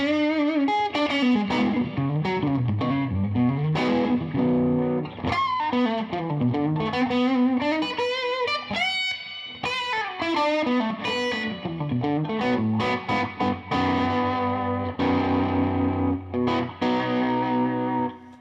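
Electric guitar played through a new Fishman amplifier with distortion and chorus effects, a continuous loud run of bent notes, chords and fast licks with short pauses, and no talk.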